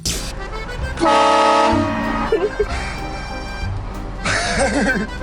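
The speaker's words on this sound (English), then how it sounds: "you drive around with a train horn attached to your car" Loud, blaring train horn mounted on a car sounds in two long bursts with a musical, multi-tone pitch, over traffic and engine noise with brief voices.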